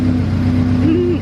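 A Subaru BRZ with new injectors and a custom 3-inch exhaust runs steadily close by, a loud, even engine drone with a slight rise in pitch near the end.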